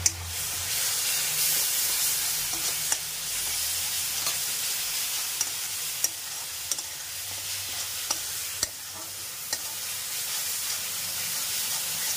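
Stuffed bitter gourd (bharwa karela) fries in a pan with a steady sizzle and hiss, broken by occasional sharp clinks of a utensil stirring, close and continuous with no talk.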